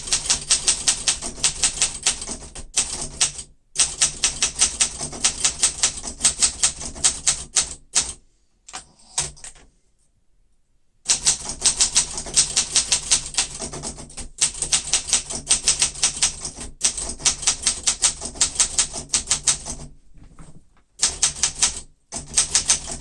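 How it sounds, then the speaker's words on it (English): A 1972 Olympia SM9 manual typewriter typed steadily in bursts of rapid, close key strikes, broken by short pauses and a longer gap before the clatter resumes. "So this is really a fantastic typewriter"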